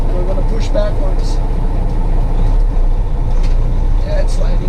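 Diesel tractor truck idling and rumbling as it pushes backwards to slide a shipping container along its trailer, with the trailer brakes set; a heavy low engine drone runs throughout, with someone talking over it.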